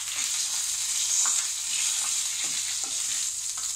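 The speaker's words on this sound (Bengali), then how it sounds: "আর কালো সর্ষে দিয়ে একই সাথে আমি কারি পাতাটাও দিয়ে দেবো।" Black mustard seeds, whole cumin and curry leaves crackle and sizzle in hot oil for Bengali suji upma, a steady close hiss with a few sharp pops scattered through it.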